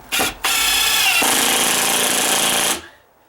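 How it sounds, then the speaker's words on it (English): A loud impact drill driving screws rattles in short bursts, then a sustained hammering whir for over a second before cutting off and ringing down. "And this is that impact drill."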